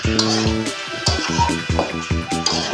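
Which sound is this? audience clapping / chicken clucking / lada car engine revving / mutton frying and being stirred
mutton frying and being stirred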